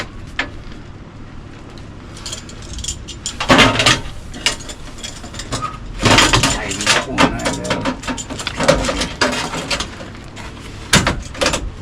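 A metal clamp is fitted and tightened during welding repairs on a rusty Mk2 Ford Fiesta, with irregular ratcheting clicks and clattering metallic knocks in bursts, some loud and close, over a quiet workshop background.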